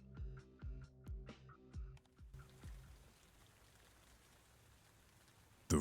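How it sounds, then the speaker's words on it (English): Soft, steady rain pattering against a window in a video game begins after a few gentle tonal notes, then continues as a faint, even hiss to the end. "The rain hits the window in a peaceful, hypnotic pattern."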